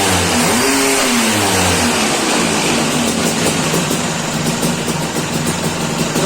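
A Vespa engine on a dyno revs hard up toward 8,400 RPM, a loud, close, sustained buzzing whine that climbs in pitch early and then holds at high revs without any talking.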